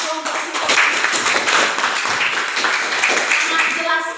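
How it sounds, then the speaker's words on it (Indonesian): Classroom applause for a student group during a discovery-learning lesson, many hands clapping in a lively, slightly uneven patter throughout, with voices talking over the clapping. "Ya, tepuk tangan untuk kelompok kita."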